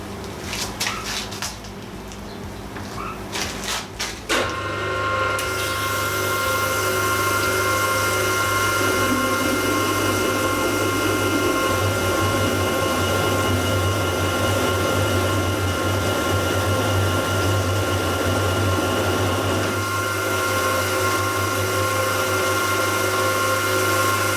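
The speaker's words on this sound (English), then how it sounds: "I'm going to drill it out and then I'll bore it out to the right diameter" A steady, loud machine whine and hum of a hole being drilled out runs continuously after a few seconds of quieter clicking.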